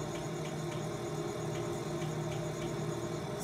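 In Farming Simulator 17, a heavy rescue truck's engine idles with a steady, low droning hum and faint rhythmic ticking, constant and moderately quiet throughout, with no talk.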